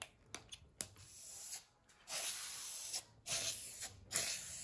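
Hammered dark bronze spray paint is applied to a restored Morgan swivel jaw vise in several short and longer bursts, a close hissing spray with brief pauses and light handling noises between passes.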